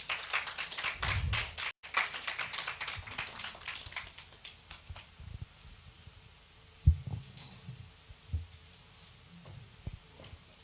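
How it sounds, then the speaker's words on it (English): An audience at an energy sustainability conference claps for an introduced speaker, starting as dense applause that thins to scattered claps after a few seconds, with a few low thumps near the end. "Please, let's give her a round of applause."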